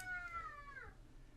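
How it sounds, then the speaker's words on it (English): A real cat at an anime studio gives a single short, faint meow with a falling pitch, heard alone and at low volume. "that's the real cat from the studio"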